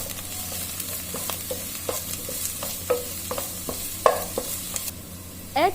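Onions and garlic sautéing in a pan for tomato basil soup: a steady close sizzle broken by frequent short scrapes and clicks of a utensil stirring, with no talking.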